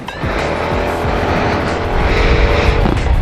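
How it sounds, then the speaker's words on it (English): A scooter engine revs hard with too much throttle at a slow speed, making a loud, continuous buzzing whine that rises and strains, close to the listener. "So what if we put this much really in?"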